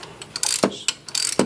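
A ratchet wrench clicks in quick, close bursts while a socket loosens a spark plug on a BMW E46 engine, a few rapid sets of sharp pawl ticks with no talk.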